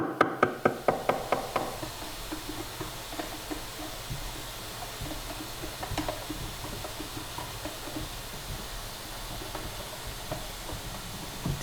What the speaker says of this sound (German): Dieser Hammer ist für die Wirbel gedacht.